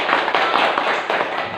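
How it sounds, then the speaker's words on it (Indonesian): A primary school classroom of pupils claps in applause for a classmate, a dense burst of quick, close hand claps lasting under two seconds. "kita beri apresiasi, tepuk tangan dulu"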